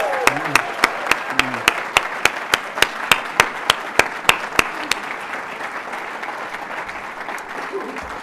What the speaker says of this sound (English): Join me in a round of applause for our teachers